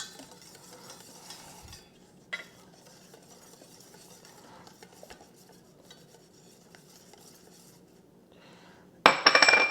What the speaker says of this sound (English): now we're going to whisk in the flour a little bit at a time